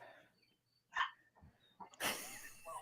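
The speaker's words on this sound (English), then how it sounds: "I have a dog barking in the background that won't stop" A dog barking in the background, faint and distant, with a couple of separate bark bursts and quieter whimpering noises between them.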